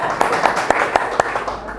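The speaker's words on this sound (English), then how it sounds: "Clap your hand." Students in a classroom clap their hands in a quick, even series of sharp claps, about four per second, over a steady murmur of room noise.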